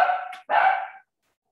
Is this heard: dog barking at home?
yes